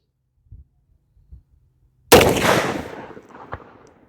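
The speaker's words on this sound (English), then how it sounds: "second shot of the 270 grain Borlock with 120 grain Firestick. Fire in the hole." A single loud blast from a CVA Crossfire muzzleloader loaded with a 270 grain bullet over a 120 grain Firestick charge booms after quiet handling noises, then a long rolling echo decays outdoors.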